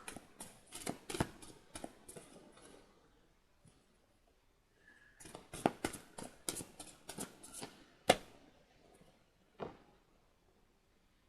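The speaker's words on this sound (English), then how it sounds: "I'm just shuffling and I'll pull up the cards as they go." Tarot cards being shuffled by hand, giving bursts of crisp riffling and slapping clicks in uneven clusters, close up, with a quiet pause in the middle and no talking.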